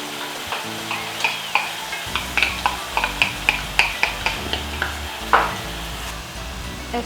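Tomatoes hit golden fried onions in a pot for beef stew, sizzling steadily while a spoon taps and scrapes in a quick regular rhythm, loud and close with no talk.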